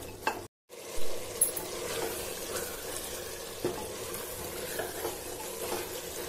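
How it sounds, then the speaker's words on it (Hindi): Minced meat keema for aloo keema sizzles and fries in a pan while a spoon stirs it now and then, with a soft steady crackle and occasional scrapes, quiet and close, without talk. "हम इसे इतनी देर भूनेंगे कि हमारा पूरा पानी अच्छे से ड्राई हो जाए।"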